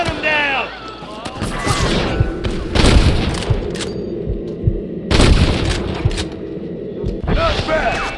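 Repeated gunfire booms and volleys rip through a Red Dead Redemption shootout, loud and close, in bursts across the clip alongside shouted voices and game effects.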